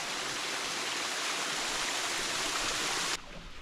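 A small forest waterfall rushes in a steady, dense, broadband roar that stays constant and fairly close, then drops suddenly to a softer level near the end.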